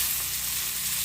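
Spice paste with cinnamon and cardamom sizzles in hot oil for a matar paneer dish, giving a steady, close, even frying hiss with no voices.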